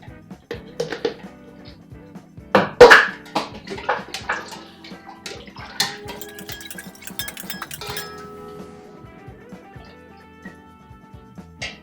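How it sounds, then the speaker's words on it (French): Pineapple juice poured from a bottle into a bowl of pineapple-coconut punch, a steady splashing liquid stream with clinks and knocks of glass, nearby and moderately loud, continuing for several seconds without talk. "je vais rajouter 30 centilitres de jus d'ananas"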